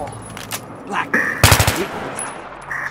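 Gunfire in the video game Battlefield 3, a short sharp burst of rapid shots with scattered single cracks and game effects around it, loud and close, with players talking over it.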